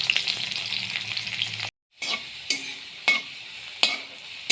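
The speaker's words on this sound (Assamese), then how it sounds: "ভালদৰে ৰঙচুৱা হোৱালৈকে ভাজি লৈছোঁ" Onions sizzle steadily in a hot pan as they brown, with a brief silent break and periodic scraping stirs every second or so.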